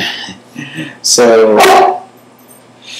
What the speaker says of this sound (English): Sorry for the barking, it's my dog.